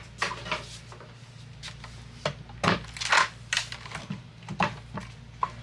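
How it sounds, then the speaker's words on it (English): Card stock cranked through a die cut machine while crafting a haunted mirror Halloween card, giving a series of close, irregular clicks and knocking thumps over a low steady hum. "And then I'm going to run this through my die cut machine"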